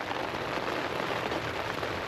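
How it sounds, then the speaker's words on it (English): Dense, steady rain pattering on a tent tarp during Storm Darragh, close and continuous with no talk. "should I take the tarp down and just, you know, hear the rain on the tent itself?"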